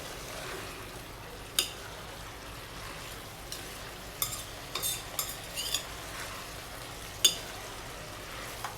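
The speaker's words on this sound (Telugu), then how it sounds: "నెక్స్ట్ కవర్ పెట్టి ఒక 3 మినిట్ పాటు ఫ్రై చేయండి. ఓన్లీ కాకరకాయలు మాత్రమే, మసాలా ఏం వేయకుండా." Bitter gourd pieces frying alone in a pan with no masala, a low steady sizzle under occasional sharp clinks and scrapes of a spoon stirring, close and fairly quiet.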